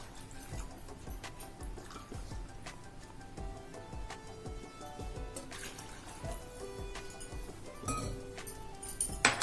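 Water poured into a cooking pot holding 1.5 cups of rice for jeera rice, filling it with about 3 cups, steady and continuous over a busy background of tonal sounds.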